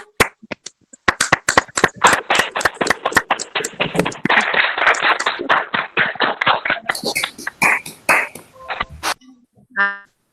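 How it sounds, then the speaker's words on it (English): Hands clap during a virtual colloquium for an honoured justice, starting as scattered single claps. They build into a dense, fast run of close clapping, then break into irregular bursts before stopping. "we need a big round of applause for Honorable Justice Madam Jyotsna Dua"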